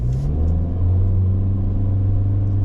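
A 2025 Hyundai Venue Limited SUV with a brand-new engine pulls under light throttle, a low steady engine drone and road rumble that rises slightly in pitch as it gently accelerates, heard from inside the cabin.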